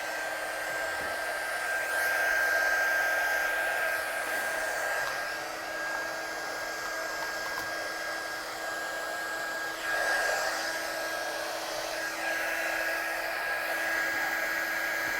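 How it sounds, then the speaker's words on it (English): A heat gun warming up before heat embossing a stamped image, with a continuous close whirring blow and a steady high whine, shifting slightly in level as it runs, with no talk. "I'm going to get my gun hot before I heat emboss the image."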